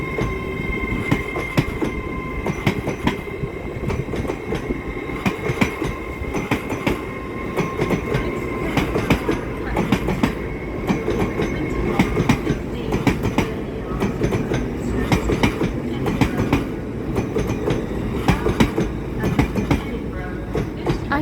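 A train passes along a railway line near Blaydon station, producing loud, continuous rumbling and clickety-clack wheel noise with faint metallic squeal tones, close and steady for the whole stretch.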